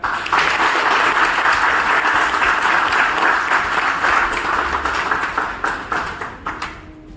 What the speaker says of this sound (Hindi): एक बार फिर से बजा दीजिए अपने लिए ताली